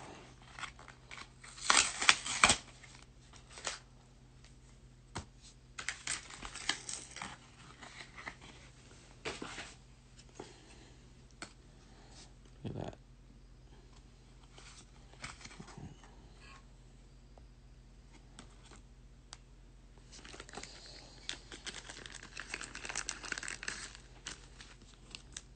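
Pokémon card pack being torn open, with crinkly foil tearing and crumpling in bursts, loudest near the start, then quieter rustles and handling of the wrapper and cards.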